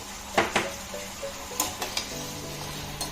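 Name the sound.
tomatoes being sautéed and stirred in a pan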